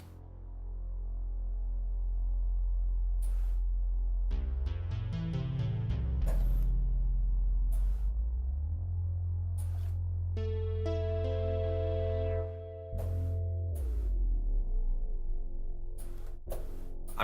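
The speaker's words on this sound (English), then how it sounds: "This is shooting sine waves in parallel with the sounds as well." Warm, pure sine tones from a CS-80-style synthesizer feature glide and hold over a deep droning bass, with occasional clicks and rising pitched sweeps.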